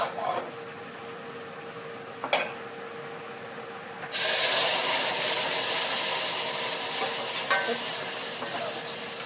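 Shallots being stir-fried in a hot pan for a Thai pork-ear soup with rice, a loud sustained sizzle erupting after a few quiet clinks and slowly easing off.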